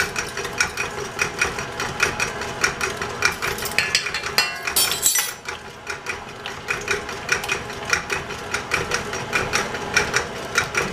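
An electric mixer whirs steadily while whipping lemon cupcake frosting with heavy cream, a close, continuous mechanical drone with rhythmic clattering pulses throughout and a brief brighter burst near the middle, no voices.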